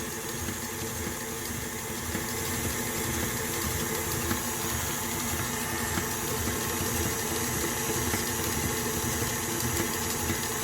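A mixer blade beats pie filling in a bowl, giving a steady, fairly loud motor whir with a churning rumble that runs unbroken for about ten seconds, with no voices.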